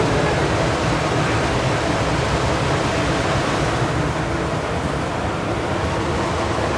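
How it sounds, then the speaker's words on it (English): Vent-A-Hood kitchen range hood with a single blower running at high speed, giving a loud, steady broadband whoosh of rushing air that holds constant throughout with no talk over it. "anytime you speed up a blower, you make more noise."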